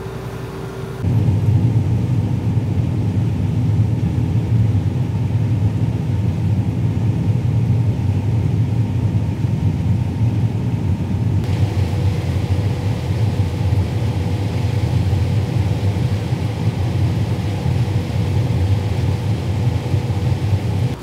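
A combine harvester runs at a steady, loud, low rumble that continues without a break, its engine drone filling the whole stretch with a slight shift in tone partway through.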